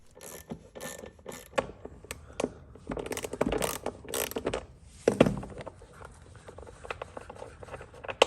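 A ratchet loosens bolts on the floorboard of a John Deere 1025R compact tractor, making close, irregular bursts of rapid clicking separated by short pauses, with occasional louder metallic knocks.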